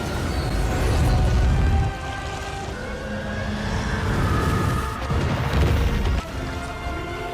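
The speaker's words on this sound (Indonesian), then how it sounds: "itulah kata-kata terakhir Venom sebelum terbakar di dalam ledakan." A loud, rumbling fuel tank explosion with crashing debris and a steady roaring background, swelling twice over several seconds with no voices.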